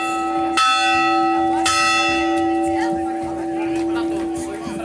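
A church bell rings loudly and clearly, with two bright strikes and a softer third one, each ringing out over a steady sustained tone.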